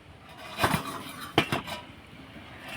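A metal lid lifted off a cooking pot of rice and coconut dough, giving a couple of close, bright clinks and scrapes about a second apart, with quiet kitchen room tone between them.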